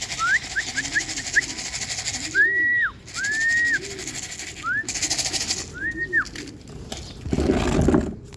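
Pigeons cooing outdoors in Morong, Rizal, a series of short rising-falling coos repeated several times at close range over faint background noise, with a brief rustle near the end.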